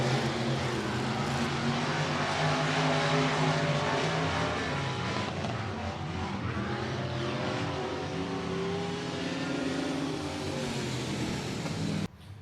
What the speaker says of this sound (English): He's going to get back on the throttle and get back out on the racetrack to try to draw a caution.